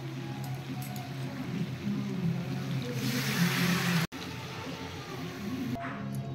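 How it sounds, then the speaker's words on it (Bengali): Hot water poured into frying mutton curry gives a brief, rising hiss of sizzling for about a second over a low kitchen hum, then cuts off sharply. "মাংস কষানো হয়ে গেছে, এবার আমি গরম জল দিয়ে দেব।"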